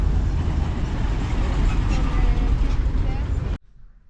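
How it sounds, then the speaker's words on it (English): Buses in street traffic in Cochabamba, a loud steady engine rumble and road roar close by that cuts off abruptly near the end. "This is what the buses look like."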